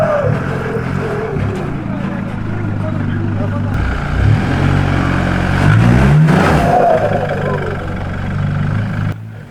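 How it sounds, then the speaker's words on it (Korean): A 2-inch lifted off-road vehicle engine revs steadily on a climb as its wheels spin without traction, a loud continuous drone rising in pitch near the middle, with someone talking over it. "시작도 하기 전에 앞뒤 좌우 바퀴 헛돌아서 전혀 못 가는 모습 보고"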